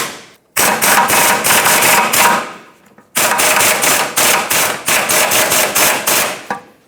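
A power tool fitted with an 18 millimeter socket snugs the sway bar bracket mounting nuts on a 2008-2012 Jeep Liberty 4x4, sounding as two loud, close bursts of rapid hammering rattle separated by a brief pause, with no talking.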